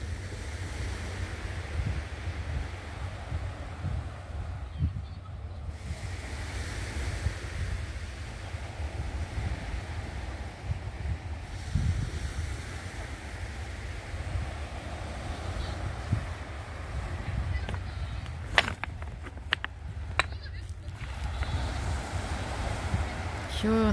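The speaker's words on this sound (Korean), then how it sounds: "시원하시죠? 바다 소리." Sea waves wash steadily onto a beach of large round pebbles, a continuous rushing surf with strong wind buffeting, ships far offshore, and a few sharp clicks near the end.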